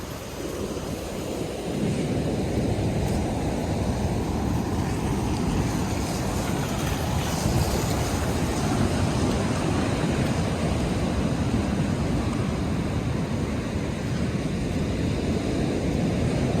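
Ocean surf pounding the California coast, a continuous loud wash of breaking waves mixed with heavy wind noise, steady throughout with no voices.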